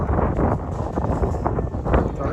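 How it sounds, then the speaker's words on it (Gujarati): Strong wind at a hilltop lookout at Tulsi Shyam in Gir buffets the microphone, a steady low rushing roar that fills the whole short stretch without a break. "ઉપર ભાઈ પવન એવો આવે"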